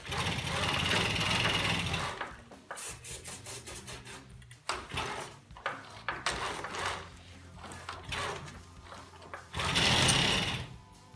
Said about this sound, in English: Sound of an engine that won't start.